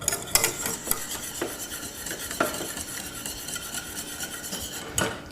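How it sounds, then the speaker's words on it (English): A whisk stirs grated cheese into a sauce in a pan, metal scraping and ticking against the pan in steady close strokes with a few sharper clinks. "And whisk that in together until you see that the cheese is completely melted."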